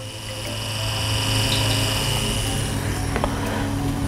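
Touchscreen-controlled tattoo machine running on its own with a steady high electric buzz and whine, continuous and close.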